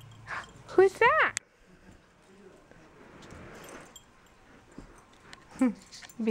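Young puppies whimpering and yipping in short high-pitched bursts close by, with quieter whines later, while people talk softly around them.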